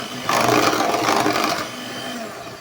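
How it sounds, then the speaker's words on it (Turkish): An electric hand mixer whirs loud and close through orange cake batter with a cup of oil just added, a short steady buzzing run of a couple of seconds that then tapers down. "Diğer malzemelerimi almadan önce mikserimle yine bir karıştıracağım 3-4 saniye."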